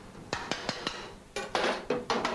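A kitchen pan handled while fried caramelised onions are drained of fat, with a series of sharp metallic clanks and knocks, several quick taps followed by heavier scraping clatter, close and clear with no talking.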